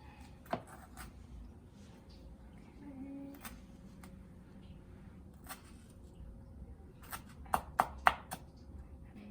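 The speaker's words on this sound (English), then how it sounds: "Next, I'm going to slice and dice the red bell peppers." A knife chops red bell peppers on a cutting board in a home kitchen, giving faint, scattered taps that cluster into quicker strikes near the end, with quiet room noise around them.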